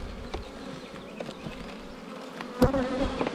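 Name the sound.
honey bees buzzing around hive frames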